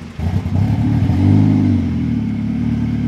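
DF Goblin kit car engine revving on its first test run, a close, loud rising engine roar with harmonic rumble that climbs and then holds steady.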